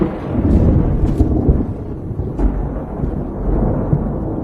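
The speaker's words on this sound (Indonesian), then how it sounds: "Bersamaan dengan suara guludug pertanda akan turun hujan" Thunder rumbles ahead of coming rain, a loud deep continuous roll with a few sharper cracks, filling the whole stretch with no voices.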